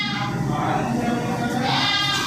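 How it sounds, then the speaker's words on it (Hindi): A goat bleats in a loud, wavering, nasal cry lasting about two seconds, close by, partly overlapping with indoor background noise. "बकरी कहाँ से"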